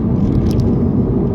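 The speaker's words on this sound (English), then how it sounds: "Yeah, it's a bumpy road." A 2009 Subaru STI rolling over a bumpy road, heard as a loud, continuous low rumble of road and tire noise inside the car, with no talking.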